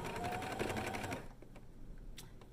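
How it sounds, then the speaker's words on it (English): A sewing machine backstitches the end of a fabric face mask in a quick, close, rattling run of stitches that stops after about a second, leaving quiet handling noises. "I'm going to backstitch to tie off the end."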